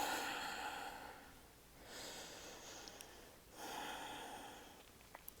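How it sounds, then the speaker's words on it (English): Slow, deep breaths during a yoga pose, audible airy inhales and exhales in three long waves, close and soft with no talking. "breathing where you are."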